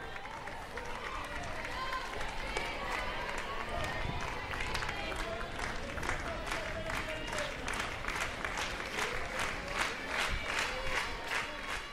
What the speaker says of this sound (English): The rhythmic clapping comes forth from the fans in the grandstand